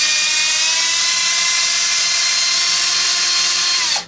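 A close, loud power drill whines steadily while backing a bolt out of an Arrma Typhon 6S RC car, holding one even pitch until it winds down sharply at the very end.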